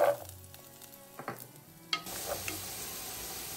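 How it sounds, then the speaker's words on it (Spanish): Potatoes sizzle as they fry in olive oil over high heat, with a few stirring clatters and a louder burst near the middle. The hiss is moderate and close, and no one speaks. "Ahora llevaremos a sofreír las papas a fuego alto por aproximadamente 5 a"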